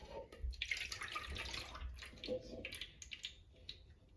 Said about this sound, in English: Pour your milk, your 1 cup of milk into the bowl.